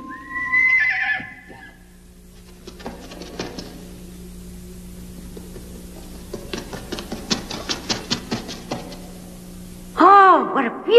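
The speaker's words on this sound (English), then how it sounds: "Oh, what a beautiful horse!" A black horse in an animated Japanese fairy tale whinnies loudly nearby at the start, then hooves and clattering follow, with another sharp neigh bursting in near the end.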